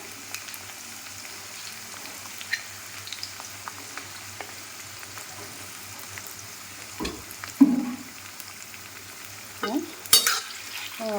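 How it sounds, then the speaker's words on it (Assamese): Onions frying in oil with cumin seeds for a pumpkin and peanut dish, a soft, steady sizzle under frequent stirring scrapes and occasional louder clanks of a spoon against the pan, no voices. "পিঁয়াজখিনি ভাজি ল'ম ভালকৈ"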